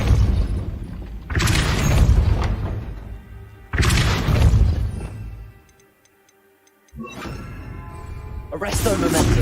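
The Depulso force spell blasts in Hogwarts Legacy, sounding as loud, booming, crackling bursts that repeat several times with short gaps between them and a brief near-silent pause before the last surge.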